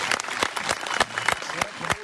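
Scattered, irregular hand claps from a crowd at a political rally in Ghannauri, Dhuri, sharp separate slaps rather than a steady roar, with voices talking underneath.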